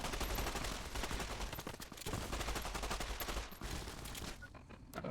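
A mercenary fires continuously in the video game Fallout New Vegas, producing sustained machine-gun fire and overlapping gunshots, loud and dense, that thin out briefly near the end.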